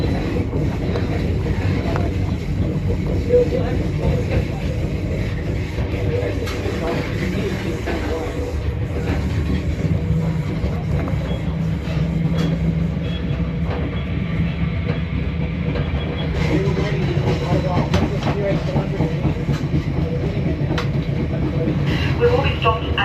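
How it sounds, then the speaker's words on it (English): Passenger train near Wigan pulling away after a long stop, a steady, loud rumble and rattle of the carriages with wind noise on the microphone throughout, unbroken for the whole stretch. "We're on our way again."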